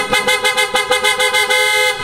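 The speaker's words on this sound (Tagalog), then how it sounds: "napakalakas po ng ating auto style horn" A pair of PIAA auto style horns on an Isuzu MU-X honks in a rapid series of short, loud, evenly spaced blasts, close by.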